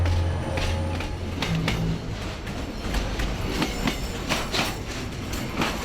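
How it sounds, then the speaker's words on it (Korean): A freight train rumbles along the rails into Daejeon Station with rhythmic clattering of wheels and occasional squeals, loud and close, continuing steadily. "이 화물열차도 오늘은 15분이나 늦게 대전역에 도착했습니다."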